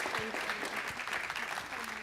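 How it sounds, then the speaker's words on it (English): A room at a city council meeting fills with applause, steady moderate clapping throughout with a voice speaking faintly beneath it. "Let's give them one more round of applause"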